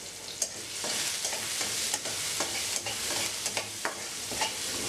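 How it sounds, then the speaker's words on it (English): Minced ginger, garlic and four green chilies sautéing in a pan, a constant hiss of frying broken by regular spoon scrapes and taps, close up with no voices. "minced ginger and garlic, 4 green chilies and saute them until the raw smell of the ginger and garlic has gone."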